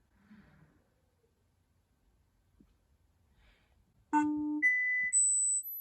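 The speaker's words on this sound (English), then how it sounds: "It will actually play back noise to test the microphone" Near silence with faint rustling, then loud, steady electronic beeping tones at several pitches, one after another, played by an iPhone testing its microphone, for the last couple of seconds.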